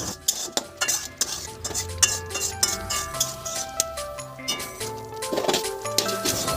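A spatula stirs and fries a thick curry in a metal pan, producing repeated close scrapes and sharp clinks in an uneven rhythm, loud and without talk.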